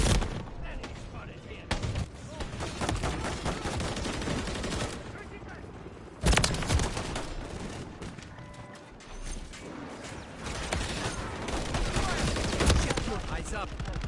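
Shotgun fire in Call of Duty Modern Warfare 3, repeated heavy blasts among a busy stream of gunfire and game effects, loud and close, with a voice talking over it.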